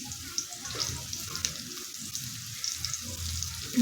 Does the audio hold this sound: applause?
no